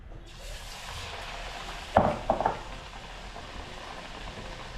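Bajji batter made with ajwain leaves being stirred and mixed by hand, a soft wet churning under a faint background sizzle, with a brief louder slap of mixing in the middle; no one talks.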